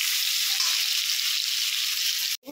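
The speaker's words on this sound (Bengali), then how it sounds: "বেগুনটা দিয়ে ভালো করে একটু ভেজে নেব।" Eggplant and tomato frying together in a pan, giving a steady, close hiss of sizzling oil that continues evenly before cutting off abruptly at the very end.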